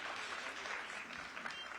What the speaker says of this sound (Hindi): एक बार फिर से जोरदार ताली हो जाए ताकि हम सेशन की शुरुआत करें